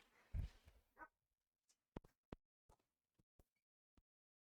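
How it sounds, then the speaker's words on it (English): Dogs barking in short, separate yelps and barks, fairly faint and spread over a few seconds, after a brief low thump, in an otherwise quiet setting. "I hear the dogs barking."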